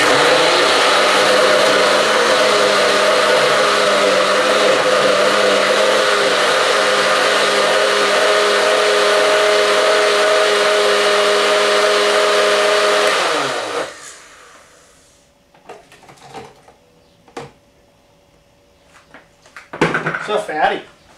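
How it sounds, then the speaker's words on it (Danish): A kitchen blender whirring steadily and loudly for about thirteen seconds while puréeing Mexican salsa ingredients, then shutting off and winding down, followed by a few clinks and handling noises and a voice briefly talking. "du bare komme dem op i en blender."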